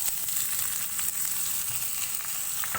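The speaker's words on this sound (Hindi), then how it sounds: "प्याज को ऑयल में फ्राई करेंगे।" Sliced medium onions fry in hot oil with a dense, steady sizzle and crackle, loud and close, with no talking throughout.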